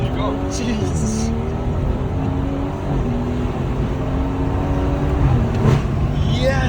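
A modified BMW B58 inline-six revs hard on anti-lag, with rising and falling harmonic sweeps over a rough, loud exhaust drone that holds steady for several seconds while people talk over it.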